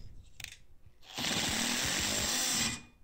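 Power tool with a 10 mm socket spins off the rear wiper arm nut on a Mitsubishi Delica L400, a brief click and then about a second and a half of loud, close whirring that stops abruptly.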